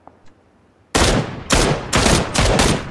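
Gunfire in the battle royale game PUBG: after a quiet moment, five loud, close single shots crack out in an uneven rhythm, each with a short ringing tail.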